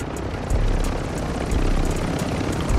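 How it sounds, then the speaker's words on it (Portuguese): A helicopter in the video game Call of Duty Warzone 2.0 produces a loud, steady rotor and engine roar with a rhythmic chopping pulse, close and continuous, with no talk. "O cara tava de helicóptero."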